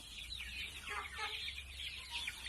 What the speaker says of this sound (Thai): ไก่ได้หนึ่งเดือนหกวันนะครับ